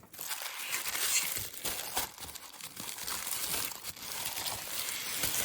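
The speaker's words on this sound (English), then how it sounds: "unwrap the Beading School calendar for 2025 with me." A 2025 Beading School calendar being unwrapped from its packaging gives continuous close, crisp crinkling and tearing of wrapping, with irregular rustles and crunches and no talk.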